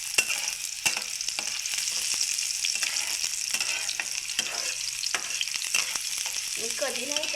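Onion and masoor masala roast in a pan over low heat with a steady sizzle, broken by frequent scraping and clinking stir strokes throughout, with no voices.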